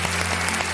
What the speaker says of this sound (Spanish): te has ganado el aplauso de la tarde